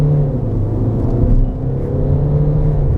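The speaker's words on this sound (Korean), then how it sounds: "차 가볍게 치고 나가죠" A Peugeot 2008 GT-Line pulls away briskly in sport mode, heard from inside the cabin as a loud, even engine hum and low rumble with no voices.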